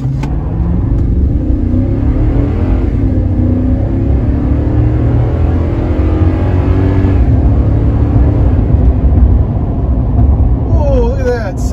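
2022 Toyota Tundra pulling hard from a complete stop up a slight incline, its engine roaring loud and close as the pitch climbs steadily through gear changes for several seconds, then easing off at the end.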